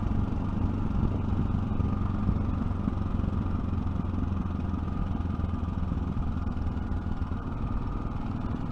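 A Yamaha 660 Ténéré motorcycle engine braking on a country road, its steady low engine drone and mechanical clatter holding constant and close throughout, with no talking.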